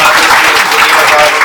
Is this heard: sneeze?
no